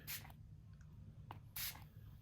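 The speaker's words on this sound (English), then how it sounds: "let's spray some of this Distress Oxide in the speckled egg over that" Two short hissing bursts of Distress Oxide ink in the speckled egg shade, sprayed over brown paper mailer tags, each a quick airy spritz about a second and a half apart, close and fairly quiet.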